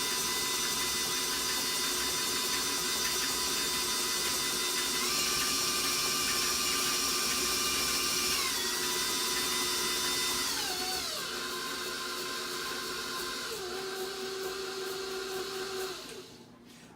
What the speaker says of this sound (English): I take my trusty paddle, crank up the bowl, and cream the butter and sugar